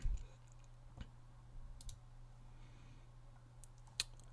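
A single mouse click on a create button, a small faint tick standing out against quiet room hum, with a few other light clicks following.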